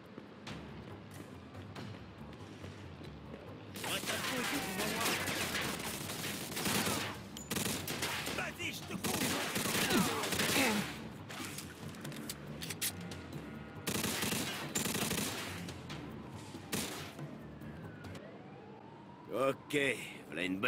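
Gunfire in the Mafia 2 video game comes as rapid bursts and scattered shots in clustered volleys, with sirens wailing between them and a voice talking over the mix.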